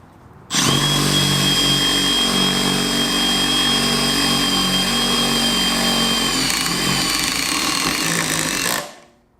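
A cordless impact driver, quieter and lighter than an older M18 model, drives a fastener in one loud continuous burst of about eight seconds before stopping abruptly.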